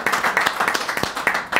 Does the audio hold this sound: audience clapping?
yes